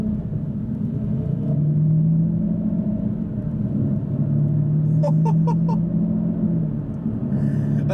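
A steady, deep engine rumble fills the cabin of an Aston Martin V12 Vantage on the road, droning continuously at close range, with a few brief high chirps near the middle.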